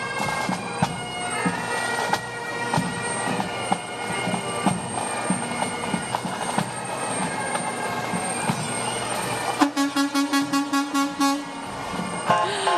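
Loud traffic rumble at a parade, with a series of short, evenly spaced garbage truck horn blasts near the end, close and insistent.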